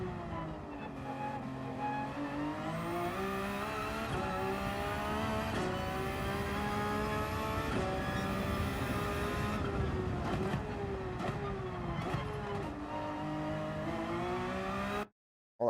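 A turbocharged race car engine revs steadily at mid RPM, its loud, continuous drone rising and dipping through repeated throttle swells before cutting off abruptly near the end.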